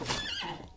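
A horse in the Outlaws of the Old West video game lets out a short, loud whinny with a wavering pitched neigh, close and clear, with a faint clip-clop of hooves under it and no talk.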